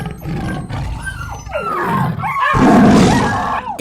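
A cartoon tiger gives a loud, sustained roar with growling snarls that swell to a peak partway through and hold, with no speech over it.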